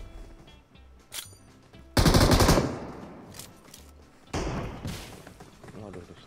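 Sniper gunfire in an online shooter game: two heavy, loud shots ringing out with long decaying tails, the first around midway and a second a couple of seconds later, mixed with game noise and players talking.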